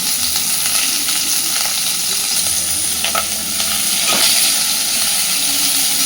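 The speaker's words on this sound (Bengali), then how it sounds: "পেঁয়াজ কাঁচা লঙ্কাটাকে একটু হালকা নাড়াচাড়া করব।" Chopped onion and slit green chillies stirred in a hot pan with nigella seeds for a fish curry, giving a steady close sizzle and hiss with scraping stir strokes throughout and no talking.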